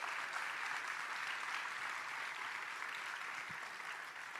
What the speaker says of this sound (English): So let's give them a round of applause, please.